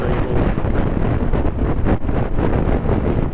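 Wind buffeting a rider on a Suzuki GSX-S GT motorcycle with a screen deflector, a loud continuous roaring rush with gusty fluctuations throughout.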